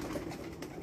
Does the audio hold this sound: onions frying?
no